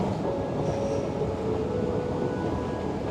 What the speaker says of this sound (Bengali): আমরা এখন স্টকহোম সেন্ট্রাল স্টেশনের ভেতরে